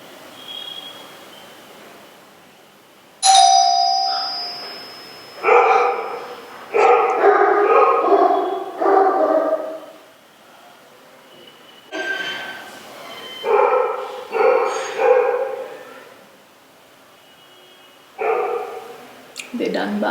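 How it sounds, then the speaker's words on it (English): Dogs bark indoors in bursts of sharp, yippy barks with a few whimpers, close and fairly loud, separated by quiet gaps; a high squeaky sound appears early on. "They're done barking."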